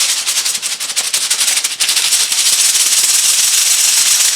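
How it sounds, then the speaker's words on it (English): Keycaps from an Apple A1048 keyboard are shaken vigorously to throw off water, giving a loud, dense, continuous rattling hiss up close that stays steady for several seconds with no talk. "This is going to shake the water out of the keys"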